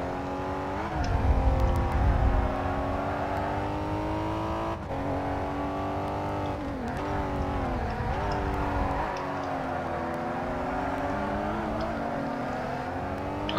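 Racing car engine in ToCA Race Driver 3 drones steadily with rising and falling revs through gear changes, loud and continuous, with a deeper rumble swelling early and again midway.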